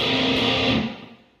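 An open string on an electric guitar with a distorted effect is plucked during a riff, ringing loudly, then fading quickly within about a second and a half.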